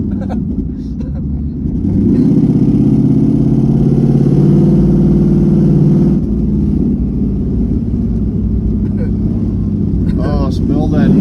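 S550 Mustang fitted with an MSD two step and running E85 launches with wheels spinning and fishtailing, a loud sustained engine roar close by, and people talk over it.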